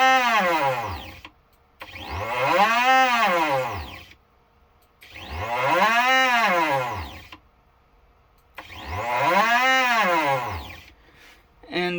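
Stepper motor driving the Y-axis of a 3018-PRO CNC machine, a loud whining tone that sweeps up and down in three repeated runs of about two to three seconds each, with short near-silent pauses between them.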